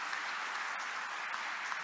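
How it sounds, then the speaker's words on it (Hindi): Applause from a large audience at a state mining conclave, a steady wash of dense clapping heard at a distance without a break. "सबके लिए जोरदार ताली बजाओ"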